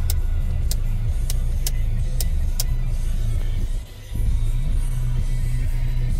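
An Opel Insignia 2.0 CDTi diesel with 4x4 and automatic gearbox idles steadily, a loud, close, even rumble with faint regular ticking, and the engine note dips briefly once near the end.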